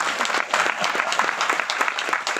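An audience at a film music launch event applauds, a dense, steady clatter of many hands clapping together, fairly close and continuous with no voices over it.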